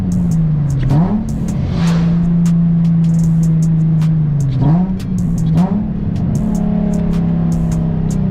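A Nissan 350Z HR with a full single-exit exhaust pulls hard in first gear on a winter drive, its loud steady engine drone climbing in pitch with brief dips at the gear changes, close and continuous.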